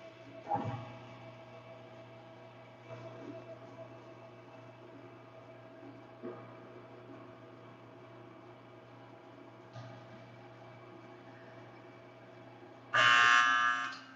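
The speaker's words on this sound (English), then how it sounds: "the alarm that let us know that the mixing is done." An alarm on a noodle dough mixer in a udon and ramen production room goes off near the end, a loud steady electronic buzz lasting about a second over a constant machinery hum and a few soft clunks.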